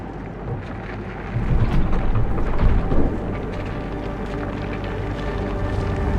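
Rumbling storm wind and thunder in the video game Fort Solis, a dense, continuous roar with a heavier swell of low rumble midway, no voices.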